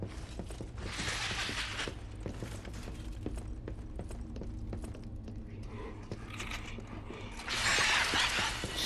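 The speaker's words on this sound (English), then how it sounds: "Can hear that puppet sound" Mechanical creaking and clicking of puppet machinery in the game Lies of P, a steady whirring and ratcheting mix with scattered clanks, growing louder near the end.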